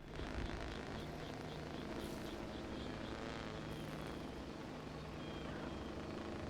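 A jet engine on a player-built craft in the video game Trailmakers gives a loud, steady, broadband roar that holds without a break throughout.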